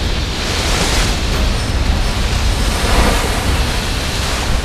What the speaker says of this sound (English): For a period of nearly 10 minutes, multiple waves batter the inside of the cavern.